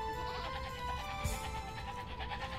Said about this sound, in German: Meine Ziegen.